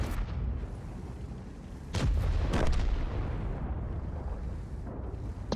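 Artillery booms in a tank battle video game: two heavy blasts land close together in the middle over a constant low rumble of battlefield noise.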